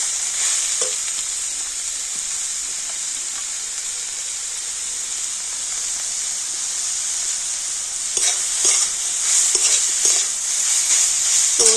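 Grated beetroot and carrot frying in hot oil in a pan: a steady, close sizzle with a bright hiss throughout, and stirring scrapes and clatters picking up near the end.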